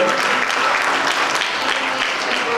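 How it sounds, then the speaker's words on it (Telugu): Sustained, dense applause fills a church gathering during a special prayer service, a crowd clapping steadily and loudly throughout with no break. "చప్పట్లు కొడుతూ వారిని అభినందిద్దాం"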